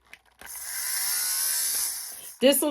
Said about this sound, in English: buzzy little shaver, you can shave off little wear